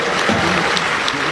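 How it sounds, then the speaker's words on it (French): An audience at a comedy night in Cotonou applauds, a loud, dense, continuous wash of clapping filling the brief moment. "Applaudissez pour Margot."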